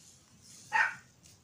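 A single short dog bark sounds once, somewhat muffled as if from another room, against a quiet background.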